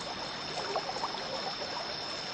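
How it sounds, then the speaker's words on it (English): Steady flowing water rushes and gurgles in a constant wash, moderately quiet with small splashy variations. "The rushing water took the boat into the middle of the river."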